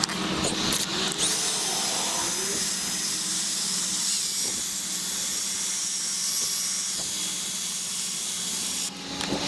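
Glossy black plastic trim is sanded with a 3M restoration kit, producing a continuous loud hissing, whirring abrasion that runs steadily throughout before easing off at the very end.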